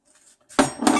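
Chunks of chaga mushroom, about half a cup, dropped into a metal pot, making a short, loud clatter and clink of hard pieces striking metal after a brief quiet moment.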